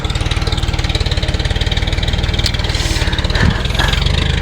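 A tractor engine runs steadily nearby with a low, even chugging pulse throughout, plus a brief knock partway through.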